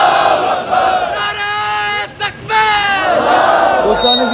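A large rally crowd roars back in unison to the Nara-e-Takbir religious slogan, a loud, sustained chant of many voices that swells, breaks off briefly, then rises again.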